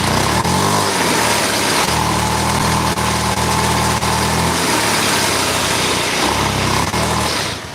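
Honda Beat scooter engine idling and then revved in repeated bursts with the throttle blipped and released, a loud, close, buzzy putter rising and dropping several times over a steady idle.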